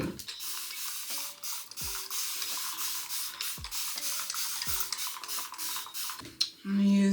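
Repeated quick hissing bursts from a spray bottle misting water onto a woman's short pixie-cut hair. Several sprays come close together, with faint handling noises in between.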